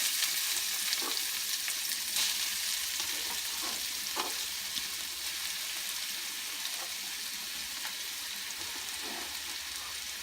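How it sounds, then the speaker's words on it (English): Onions and green chilies fry in a pan over medium flame after cloves, making a steady, close sizzle with occasional soft crackles and stirring, and no talking. "let it roast for a minute, adding green chilies"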